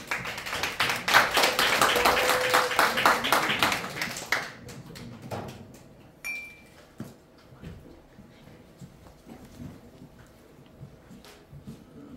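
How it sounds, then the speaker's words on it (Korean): An audience at a sing-along concert event claps warmly for several seconds in a close, dense burst, then thins into scattered claps and quiet shuffling. "큰 박수로 모시도록 하겠습니다."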